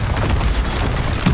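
A Confringo blasting-spell explosion in the video game Hogwarts Legacy makes a loud, dense, rumbling boom that fills the whole short moment with no voice over it.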